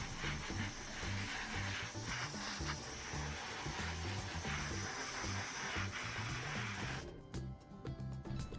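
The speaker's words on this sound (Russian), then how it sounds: "Грунтую черным грунтом, ну, чтобы не красить потом еще раз. Заливаю глянцевым лаком." Gloss varnish sprays onto a black-primed paper diorama model, a steady close hiss that runs continuously and then cuts off near the end, leaving faint clicks and handling noise.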